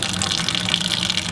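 Blonde ale wort pours steadily through a strainer during homebrewing, a close, continuous splashing rush of liquid without pause.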